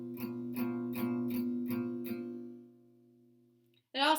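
A guitar chord played on four inner strings, skipping the lowest and highest, is strummed about six times in an even rhythm and then left to ring and fade, followed by a brief loud noise at the very end.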